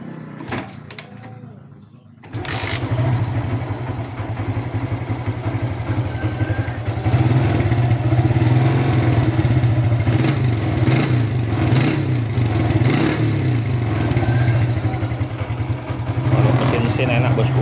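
Suzuki Shogun SP motorcycle engine kicking into life after a quiet start, then idling and revving with a steady low throbbing drone that swells a little midway, close and fairly loud, with someone talking over it.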